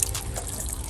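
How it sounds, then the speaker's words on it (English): Water trickles and splashes steadily into a pot of soil holding red onion starts, a close, continuous soft pouring sound with no voices. "we're going to water it in just a little bit more"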